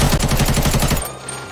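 A loud, rapid burst of about a dozen automatic gunshots in the video game Arena Breakout, in quick rhythm, cutting off abruptly into a quieter tail.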